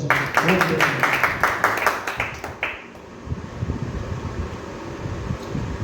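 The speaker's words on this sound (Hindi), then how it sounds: "तालियां एक बार।" Audience at an award ceremony claps in a short burst of applause that fades out after a few seconds, leaving a low roomy hum.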